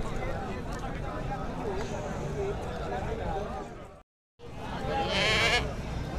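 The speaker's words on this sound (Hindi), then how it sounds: "काफ़ी भारी बकरा है, हाइट भी अच्छी खासी है, बहुत ही प्यारी चीज़ है, फुल ब्लैक।" Goats crowd a busy street goat market during the Bakra Mandi livestock trade, with bleats mixed into dense crowd noise and people talking throughout, broken by a brief silent gap before the noisy bustle resumes.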